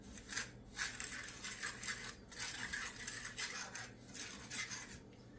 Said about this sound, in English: And we'll start to sort of mix it up a bit.